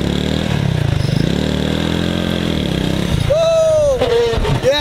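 Motorcycle engine revving hard while stuck in deep sand, a steady loud drone rising and falling with strained throttle bursts, near and continuous, with people talking over it.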